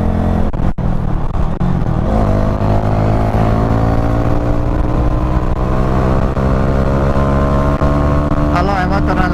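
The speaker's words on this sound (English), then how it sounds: "Ali ovaj motor nenormalno dobro ide za svoj kubikaž." A Honda motorcycle engine running loud and steady, a continuous droning hum whose pitch rises slowly, heard close up as if from the rider's position.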